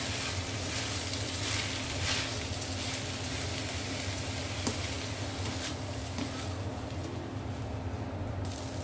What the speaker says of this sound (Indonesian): Oke, aku tumis dulu sampai airnya agak menyusut gitu.